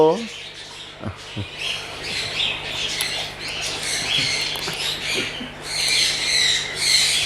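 A pet macaw lets out harsh, raspy squawks in repeated bursts, loud and close, over a low background hum with a brief voice-like sound at the start.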